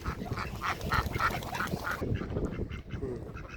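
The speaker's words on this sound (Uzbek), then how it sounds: "Joni dili suvda o'rdaklar bular" Several ducks quack in quick succession close by, a rapid series of nasal calls that thins out toward the end.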